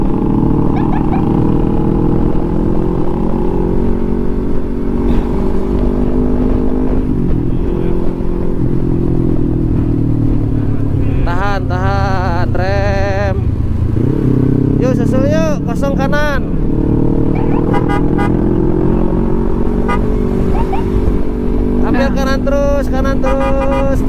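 Dense traffic on a busy Sulawesi road in Masamba, with motorcycle engines droning and revving continuously up close, occasional horn-like tones rising over the din, and voices speaking in bursts above the engine noise.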